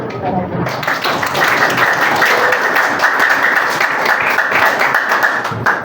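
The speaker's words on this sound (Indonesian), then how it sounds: "Tepuk tanganmu." A group claps together in a dense, continuous burst of applause that holds steady for several seconds.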